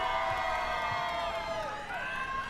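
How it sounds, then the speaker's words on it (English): Supporters of masonry teams at a bricklaying competition scream and cheer, a dense and continuous crowd roar full of high shrill voices and whoops. "25 more minutes of yelling from all of you"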